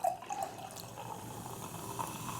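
Sparkling water from a can is poured into a drink, giving a steady, soft fizzing trickle close by with no talking.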